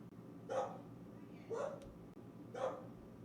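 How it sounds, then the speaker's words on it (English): Dogs barking at a distance indoors, three separate muffled barks spaced about a second apart, faint over a low background hum. "Dogs are barking."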